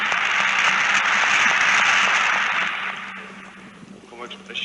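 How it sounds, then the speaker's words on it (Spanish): A parliament chamber stands and applauds as the king signs the 1978 Spanish Constitution, dense sustained clapping that fades out toward the end. "toda la Cámara puesta en pie y aplaudiendo este histórico momento"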